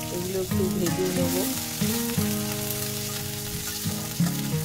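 Chopped onion, green chilli and white mustard seeds fry in ghee for broken wheat upma, giving a steady sizzle beneath tonal background music.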